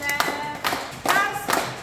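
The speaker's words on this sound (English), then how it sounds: "I'm gonna clap and praise the Lord" Hands clap along to a gospel song at an Easter church service, four sharp claps in a steady beat about half a second apart, close and fairly loud, with singing behind them.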